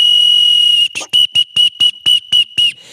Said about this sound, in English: I'll give this one a whistle.